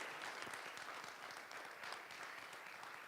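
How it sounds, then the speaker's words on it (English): Town hall audience for a city school district applauding its facilitators and panel: a short burst of steady, moderately distant clapping filling the whole stretch without speech. "Let's please give a round of applause for our facilitators and our panel."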